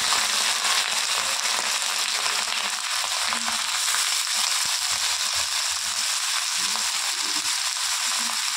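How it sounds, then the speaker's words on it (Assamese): Potato, green chilli and onion bhaji frying in a pan, a steady close hiss and crackle of oil that holds level throughout with no talking. "এতিয়া ভাজিটো বহাই লওঁ।"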